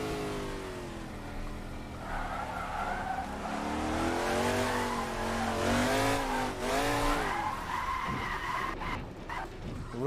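In a racing video game, a Shelby Daytona spins its rear wheels and skids on the Isle of Man TT course, the engine revving in rising and falling sweeps loudly over tire noise.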